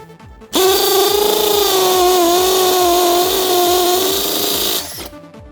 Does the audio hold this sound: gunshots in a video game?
no